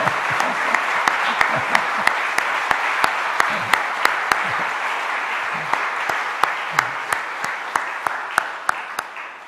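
A church congregation at an early-morning worship service claps for a departing missionary, a steady wash of applause with sharp, regularly spaced claps punching through in a near-rhythmic beat.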